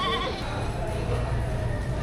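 Goats bleat repeatedly at a livestock market amid a busy crowd murmur and low rumble, with several calls overlapping at close to moderate distance.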